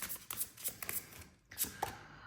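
Tarot cards being shuffled at close range during a tarot reading, a run of soft papery riffles and flicks in uneven bursts with a short pause midway.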